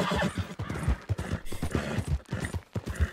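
Horse in Red Dead Redemption 2 trotting with steady, dense clip-clop hoofbeats throughout, a whinny mixed in, loud and close with no speech over it.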